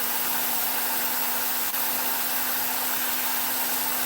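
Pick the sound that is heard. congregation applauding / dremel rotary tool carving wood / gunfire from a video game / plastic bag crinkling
dremel rotary tool carving wood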